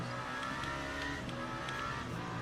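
Lamborghini race car in Le Mans Ultimate multiclass racing at Portimão, its engine droning steadily and loudly amid surrounding traffic, with a continuous dense mechanical roar and faint gear shifts, no voices.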